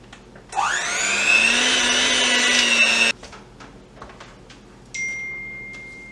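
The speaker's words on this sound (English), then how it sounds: "now we're going to use a handheld mixer to combine that" A handheld electric mixer beats two cups of sugar for a sweet potato cake. Its motor whine rises as it spins up and holds for about two and a half seconds, then stops, followed by faint clatter and a brief higher whir.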